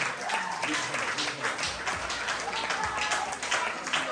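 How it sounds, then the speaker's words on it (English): An audience at a school graduation applauds the children, a steady wash of many hands clapping at moderate distance, continuous and fairly even for the whole stretch. "I wanted to applaud the children"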